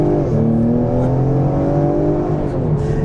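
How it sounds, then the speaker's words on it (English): A 2020 Ford Explorer ST engine pulling hard through its 10-speed gearbox on back roads, a loud steady drone with rising and falling tones heard from inside the cabin. "this car really explodes whenever you floor the gas"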